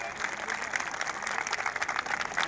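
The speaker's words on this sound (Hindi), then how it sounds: "एक बार जोरदार तालियां बजाइए इनके लिए" Audience clapping for a guest at a Haryana event, a steady faint wash of applause throughout with no clear voice on top.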